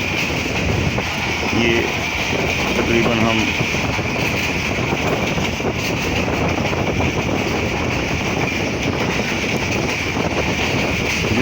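A train rolls toward Lahore railway station, with continuous loud rumble and wind noise throughout while someone talks over it.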